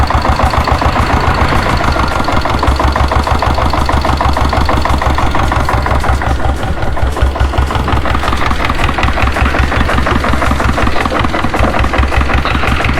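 A 7.5 HP diesel Bullet motorcycle engine runs loud and close, a rapid steady thumping knock that continues evenly without pause.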